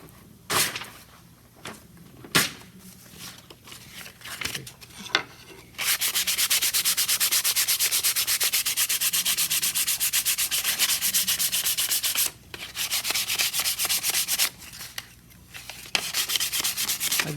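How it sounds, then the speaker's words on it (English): Wood edges sanded by hand with super fine 220-grit sandpaper: a few scattered scrapes and knocks, then long stretches of fast, rhythmic back-and-forth rubbing, close and fairly loud, pausing briefly before resuming. "I would need a 220, which will be my super fine sandpaper"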